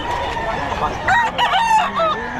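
Several fighting cocks at the Bocaue pet market crow in overlapping, drawn-out calls over a steady background of clucking and crowd noise, with two or three loud crows rising near the microphone.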